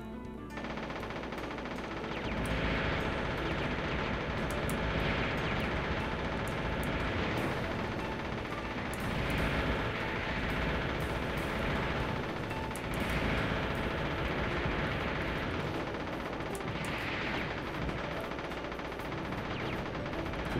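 Sustained rapid automatic gunfire from the video game Wargames: Defcon 1, a dense continuous rattle with recurring louder bursts over roughly twenty seconds, steady and loud throughout.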